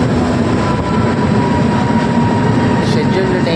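A superfast express train halts at Duvvada railway station, giving a constant loud rumble and hum from inside the carriage, with faint indistinct voices in the background.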